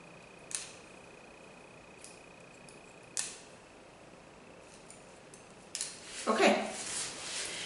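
Scissors trim the top layers of a woman's short bob haircut: a few sharp snips come at a quiet, close distance with gaps between them, and a longer rustle of cutting and hair handling follows near the end.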